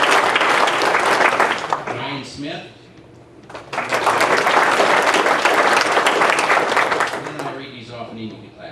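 Banquet audience applauds in two sustained bursts of dense clapping, with a brief lull in between where a voice announces names over the room.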